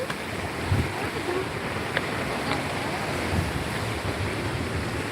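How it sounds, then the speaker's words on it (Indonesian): Big sea waves and wind make a steady, loud rushing wash with gusty microphone buffeting, continuous throughout with a few faint knocks. "Hati-hati ombaknya besar."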